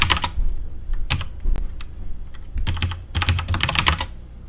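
Fingers type on a computer keyboard in quick bursts of clicky keystrokes separated by short pauses, close and fairly loud, with no talking.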